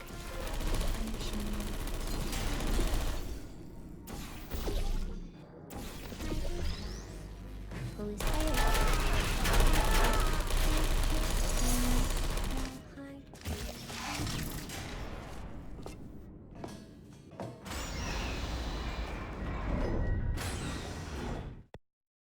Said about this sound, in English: This next test involves turrets. You remember them, right? They're the pale spherical things that are full of bullets.